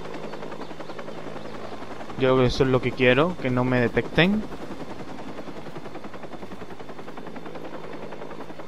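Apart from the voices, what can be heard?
helicopter in the video game Watch Dogs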